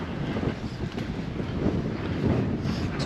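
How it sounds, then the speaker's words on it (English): Steady, blustery wind buffets the microphone outdoors at the Portixol seafront in Mallorca, a continuous low rumble that swells slightly toward the end, with no voices. "the wind's picking up again"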